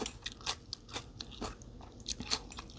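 Crunchy bites into blanched yardlong beans eaten alongside khanom jeen with coconut-milk curry and fermented fish sauce: a close, moderately loud series of crisp snaps and moist chewing crunches, roughly six or seven uneven bursts over a few seconds, with no talking.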